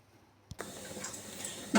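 Water for steaming a whole chicken bubbles in a pot, a soft hiss and gurgle starting after a brief clink, close and fairly quiet.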